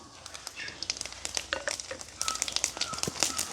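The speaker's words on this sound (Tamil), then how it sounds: "எண்ணெய் கொதிச்சிட்டுது கொஞ்சமாக கடுகும் பெருஞ்சீரகம் போடுவோம்" Mustard seeds and fennel seeds crackling in hot oil in a village kitchen: scattered sharp pops and clicks that grow denser over a faint background hiss.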